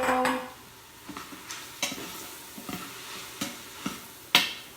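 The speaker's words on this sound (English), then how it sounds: "now I'm putting the kale, 5 cups of kale" Kale is sauteed in a pan with onion and mushroom, a soft sizzle underlying a series of distinct scraping stirs spaced about half a second to a second apart.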